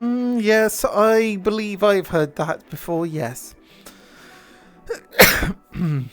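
Someone talks in a steady voice, then a quiet pause gives way to one loud, abrupt sneeze, followed by a short spoken reply.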